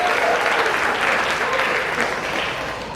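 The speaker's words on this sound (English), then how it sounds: "Let's give these students a round of applause." A graduation audience applauds the new graduates in a sustained, dense wash of clapping that holds steady for the whole stretch, then eases slightly toward the end.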